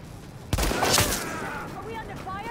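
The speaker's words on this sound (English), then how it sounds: "Are we under fire?" Gunfire in Tom Clancy's The Division, a sudden sharp volley of shots that trails off into a lingering echo, with a voice speaking under it.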